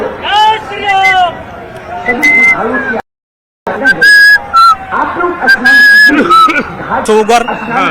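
A man imitates a hawk-cuckoo's call with repeated rising whistled notes, sung in loud bursts around a short silent gap.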